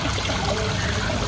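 Pressure water trickles steadily for a dog to drink, a close, continuous splashing rush with no talk over it.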